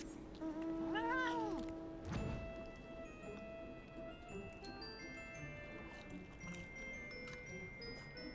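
A cat meows in a video game set in Southern Thanalan, one clear rising-and-falling meow near the start over a steady bed of game music and ambient tones, followed by a soft thump.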